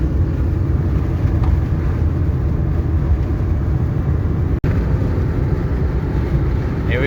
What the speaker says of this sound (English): you can see there's a car coming